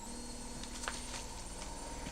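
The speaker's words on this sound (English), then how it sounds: "My washing machine sounds like it's going to take off whenever it goes into a spin" A domestic washing machine in a home spins up, giving a steady loud mechanical rumble and hum with a few faint rattles and clicks throughout, with no talking.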